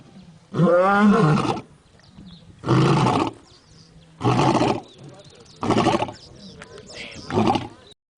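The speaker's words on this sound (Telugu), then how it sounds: "ఒక్కసారిగా వీర గర్జన వినగానే పరుగులు తీస్తూ వీరాన్ని కలవడానికి వెళ్ళింది" A lion roars as a sound effect in a dramatic story: five loud, drawn-out roars, each about a second long, separated by short silent pauses.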